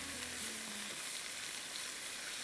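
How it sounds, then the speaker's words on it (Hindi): Chicken frying with ginger in a pan gives a steady broadband sizzle, loud and continuous throughout, with a faint low hum early on and no talk. "इसमें मैं थोड़ी सी अदरक डाल रही हूँ चिकन के साथ, और इसको मैं फ्राई कर रही हूँ।"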